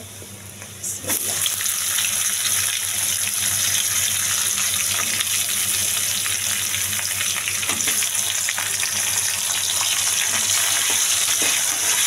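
Marinated hilsa fish head and tail, coated in turmeric, salt and chilli powder, frying in hot oil with tempering spices, a loud, steady, close sizzle that bursts in after a brief quiet start and carries on throughout.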